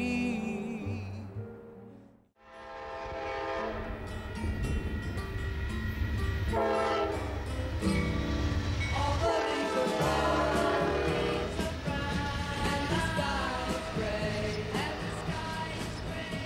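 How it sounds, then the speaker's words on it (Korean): A train crosses the Sierra Nevada mountains, its horn sounding in long, sustained chords that shift in pitch. A brief drop near the start breaks an otherwise steady, loud passage. "이제 기차는 시에라 네바다 산맥을 넘어 캘리포니아의 샌프란시스코로 향한다."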